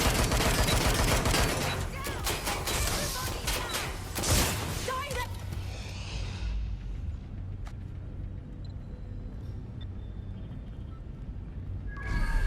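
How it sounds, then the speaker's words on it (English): Gunfire in Watch Dogs: Legion, a dense loud volley of shots and crashing for the first few seconds, then fading to quiet ambience with a brief burst returning at the very end. "That was a gun!"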